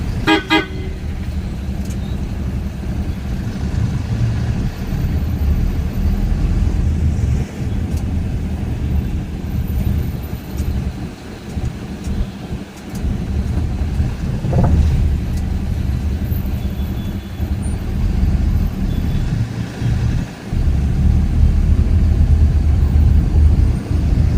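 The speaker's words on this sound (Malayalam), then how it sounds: "പെട്ടെന്ന് ഇവിടെ ട്രാഫിക് ബ്ലോക്ക് ആയിട്ട് വരുന്നത്" Cars sit in a traffic jam at a signal, with a constant close engine and road drone, several short horn toots near the start and scattered faint honks later, and no talking.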